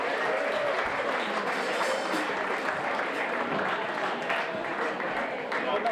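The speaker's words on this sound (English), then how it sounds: "Give him a good round of applause." Dense, steady applause from a concert audience welcoming a singer onto the stage, sustained and loud for several seconds without a break.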